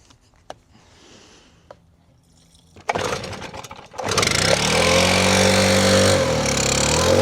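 Small gas-powered landscaping power tool engine being cranked: quiet handling and a few pull attempts, then the engine catches and roars into a loud, steady run close by.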